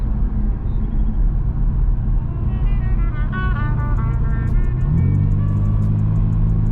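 A BMW G80 M3 fitted with catless downpipes drones close by, its exhaust note rising in a short rev midway before settling into a deep, steady low rumble.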